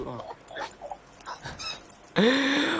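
A human voice imitates a dog barking, giving a single loud, drawn-out bark-like cry near the end after some quieter talk and background sounds.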